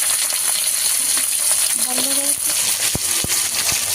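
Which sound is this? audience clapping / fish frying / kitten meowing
fish frying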